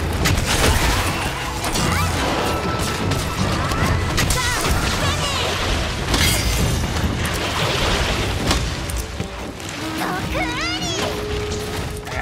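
Shooting at a Nargacuga in Monster Hunter Rise Sunbreak, with dense repeated impact crashes and booming hits over game sound and monster cries, loud and nearly continuous.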